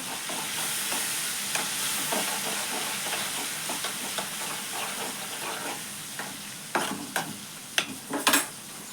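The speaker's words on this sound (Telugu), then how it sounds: "ఇప్పుడు పసుపు వేసుకొని అయితే కలబెట్టుకుంటున్నాను" Ginger frying in a pan as turmeric is stirred in, a soft continuous sizzle under scraping and tapping of the spoon, with a few louder clinks and knocks near the end.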